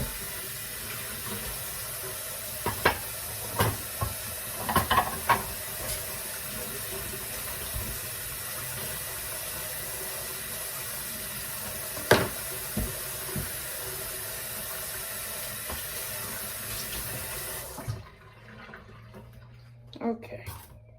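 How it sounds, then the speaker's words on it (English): Kitchen sink tap running steadily while something is rinsed out beneath it, with a few knocks and clatters, until the water shuts off near the end. "I forgot to rinse this out."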